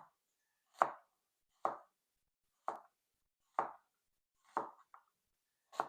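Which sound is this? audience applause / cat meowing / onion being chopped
onion being chopped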